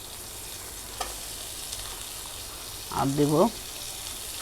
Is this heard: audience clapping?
no